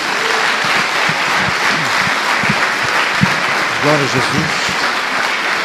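Church congregation claps together during a sermon, a loud sustained round of applause with a preacher's voice speaking over it partway through.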